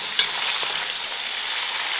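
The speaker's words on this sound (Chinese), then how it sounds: "稍微多炒一下哈，把那个猪蹄里面的油给它煸炒出来，炒到那个皮皮稍微有点焦哈" Pig trotters stir-fry in a wok, rendering out their fat as the skin starts to char, giving a loud, continuous hissing sizzle with a brief clank of the spatula near the start.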